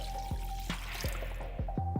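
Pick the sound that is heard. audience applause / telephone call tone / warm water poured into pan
warm water poured into pan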